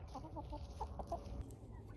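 Chickens, including a yellow hen, cluck in short repeated bursts inside a backyard coop, fairly quiet against steady background noise.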